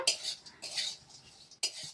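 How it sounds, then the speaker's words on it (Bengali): Peanuts dry-roasting in a pan are stirred with a metal utensil, giving brief scraping and rattling bursts separated by short quiet gaps, close and moderately quiet. "তো এই বাদাম গাঁকেও আমি একটু ভাজে নেব,"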